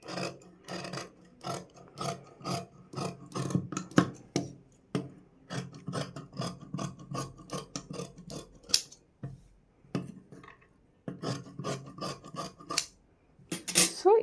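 Scissors snipping through blouse fabric along a marked curved line, a run of crisp, rhythmic rasping cuts close up, pausing briefly midway before resuming.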